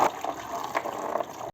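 Coolant drains from a disconnected radiator hose on a Maruti Alto as a short, steady gush of liquid splashing close by, then cuts off abruptly.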